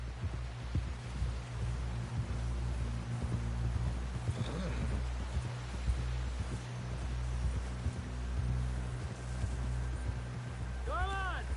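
Horse hooves clip-clop in a video game, a rhythmic thudding beat that runs steadily under a low engine-like drone and game music. A horse whinnies briefly near the end.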